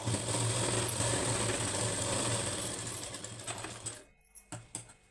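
A sewing machine runs steadily while stitching the back neck of a blouse, a continuous close whirring hum that stops near the end, leaving a few faint handling clicks.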